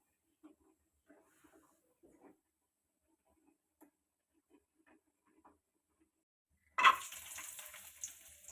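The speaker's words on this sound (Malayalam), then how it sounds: "ഇനി ഒരു പാനിലേക്ക് നമുക്ക് കുറച്ച് നെയ്യ് ഒഴിച്ചു കൊടുക്കാം. അതിലേക്ക് നമുക്ക് കാഷ്യൂസ് ഇട്ട് കൊടുത്തിട്ടൊന്ന് വറുത്ത് മാറ്റി വയ്ക്കാം." Cashews dropped into hot ghee in a pan for chana dal payasam, with a few faint clinks over near-silence before a loud, steady sizzle bursts in for the final couple of seconds.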